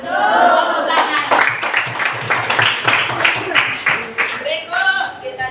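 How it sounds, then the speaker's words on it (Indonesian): Students in a school mathematics lesson on the parts of a circle clap together in a quick run of rhythmic claps, bracketed by classroom voices talking before and after. "Tepuk tangan."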